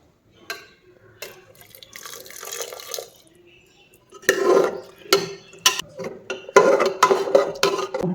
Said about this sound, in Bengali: আমি একটু জল গরম করতে বসিয়েছি, আমি গরম জল দেবো।